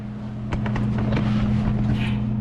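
A Jeep Wrangler with a 4.0 engine and a catback exhaust idles steadily with a deep, droning hum, while a few light clicks and rattles sound over the running engine.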